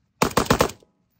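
Rapid burst of about five shots from a 5.56 AK-pattern Arsenal SAM5 rifle, loud and close, each crack sharp and evenly spaced, with a brief tail before silence.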